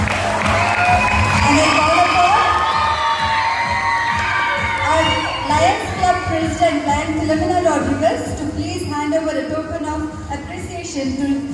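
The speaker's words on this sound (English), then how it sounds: "A big round of applause to team challengers." School audience at a Lions Club robotics and drone event cheering loudly, with children shouting and whooping throughout, scattered clapping mixed in, a dense crowd roar that stays close and steady.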